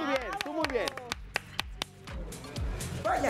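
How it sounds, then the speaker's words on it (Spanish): Sparse, sharp claps from a TV studio audience come as scattered single strikes beneath a person's lively talking, with no sustained ovation. "Oigan, hay que aplaudir."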